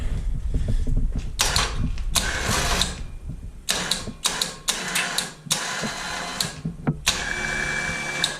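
An electric winch mounted on a zero turn mower runs in short mechanical bursts, whirring and clicking as it starts and stops several times, close and fairly loud.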